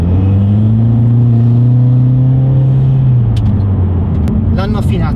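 A Mitsubishi Evo X, tuned to about 400 hp, revs with a loud, steady, up-close engine drone that holds its pitch, then sags and settles. Some talk and a few sharp clicks are heard near the end.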